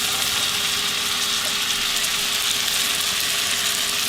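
Mushrooms and onion frying in a pan for Salisbury steak, a steady loud sizzle and hiss that continues evenly throughout with no talk.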